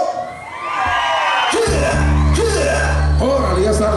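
A crowd at a village festival in Santa María Teopoxco, Oaxaca, shouts and cheers loudly, with women's yells rising over booming amplified music and someone talking.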